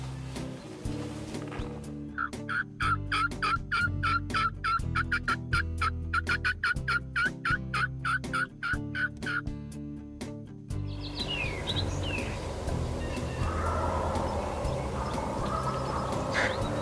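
Wild turkeys gobble from a cornfield in a rapid burst of rattling calls, then fall quiet as other birds chirp through an outdoor morning scene, with no talking.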